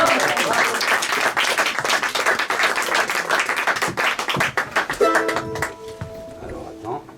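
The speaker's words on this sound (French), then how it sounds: "Alors on applaudit le génie ingénieur du son." An audience at a small live music concert applauds the sound engineer, a burst of brisk clapping that thins out after about five seconds, followed by a few sustained tonal notes with scattered claps and some talk.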